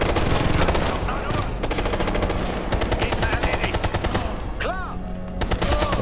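Dense, continuous automatic gunfire from the Ghost Recon: Future Soldier video game, rapid bursts and single shots layered loudly throughout, with a few electronic whooshing effects near the end.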